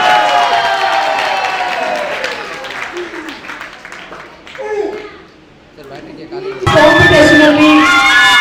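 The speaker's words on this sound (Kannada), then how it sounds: "ಚಪ್ಪಾಳೆ ಬರಬೇಕು ಅವರಿಗೆ." Crowd at a state-level cultural program applauding young prize winners, with children's voices mixed into the clapping; the sound dips briefly mid-clip, then surges back loud and dense.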